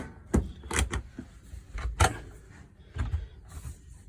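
A caravan kitchen drawer with a cutlery tray slides open and shut a few times, with sharp knocks and rattles, close by in a quiet room.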